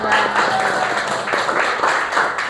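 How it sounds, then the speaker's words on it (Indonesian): Short burst of applause from a small group in a classroom after a student presentation, dense uneven clapping that stays close and fairly loud throughout. "Tepuk tangan buat Putri Halimah."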